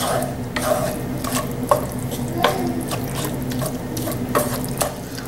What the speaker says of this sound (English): Mix that in with the vegetables.